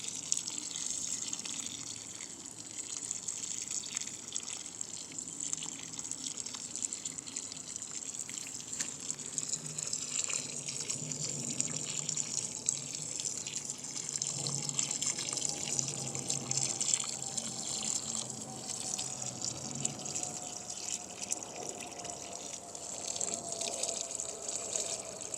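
Water pours steadily onto newly planted red beefsteak heirloom tomato plants in a garden bed, a continuous soft splashing hiss with a faint tonal whine partway through, no talking.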